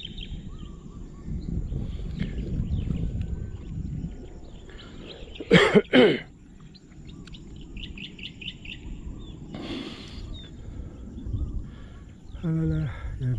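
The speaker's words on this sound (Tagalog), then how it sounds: "huni ng ibon." Birds chirp and trill in short bursts outdoors on a trail in Barangay Batas, Silang, mixed with a couple of loud coughs and a brief spoken remark over soft background noise.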